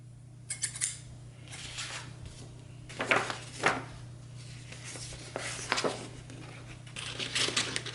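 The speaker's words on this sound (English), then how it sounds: "And then let me cut it out and I'll show you" Scissors snip through paper in short irregular bursts, quiet and close, with pauses between cuts and a faint steady hum underneath.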